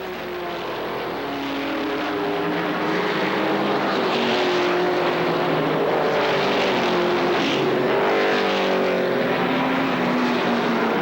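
ARCA SuperCars race at Kil Kare Speedway in 1995, a loud, steady roar of stock car engines carrying throughout, with pitches shifting as the cars run down the backstretch.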